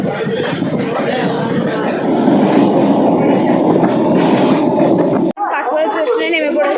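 A running passenger train rumbles steadily and loudly throughout, with continuous rattling of the carriages under people's chatter, before a sudden cut to closer talking.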